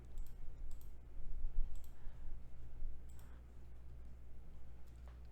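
Rapid, irregular keyboard typing clicks, close and fairly faint, over a steady low hum with no talking.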